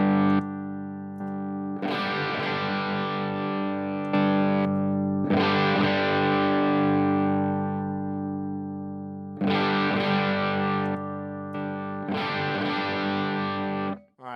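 Electric guitar through a Compulsive Drive overdrive effect, sustained distorted chords rung out in several bursts with brief silent gaps, loud and close, no talk.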